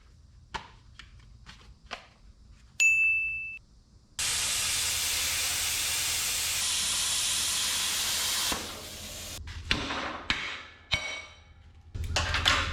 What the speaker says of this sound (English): Boy, that took everything the little plasma had, that 1/2 inch